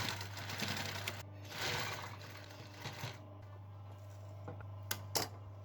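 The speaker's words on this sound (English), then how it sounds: "And then sew the two pieces together." A sewing machine stitches two pieces of T-shirt fabric together, with a soft steady whirring hum and a few brief ticks and clicks at the end, quiet and close.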